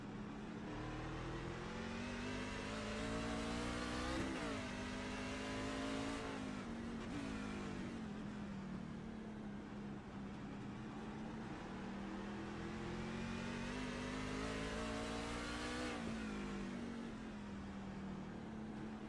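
Onboard race car engines in the iRacing sim at Long Beach drone loudly and steadily for the whole stretch, pitch rising and dipping with gear changes and throttle, with no talk.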